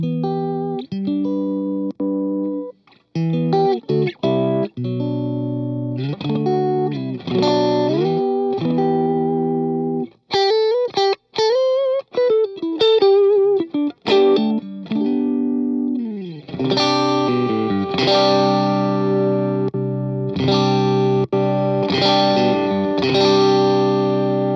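Electric guitar played through a Seafoam Pedals Trident overdrive set for a thickened clean tone: strummed chords and single-note runs with light grit and a touch of shimmer, loud and alone.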